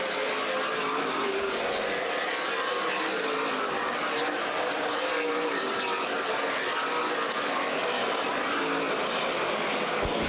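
Race cars in a CRA Super Series event at Anderson Speedway roar steadily for the whole stretch, a loud, dense wash of engine noise from the field in traffic with no voices over it.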